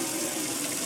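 Pressure water rushing steadily from the galley sink tap aboard a boat, a close, continuous hiss of flowing water.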